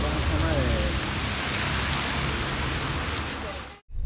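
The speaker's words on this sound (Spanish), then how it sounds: "La lluvia." Rain falling, a dense, steady hiss of drops pattering on surfaces that fills the scene loudly and continuously before cutting off abruptly near the end.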